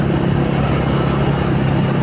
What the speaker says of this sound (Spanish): Miren la cantidad de gente, carros y motocicletas.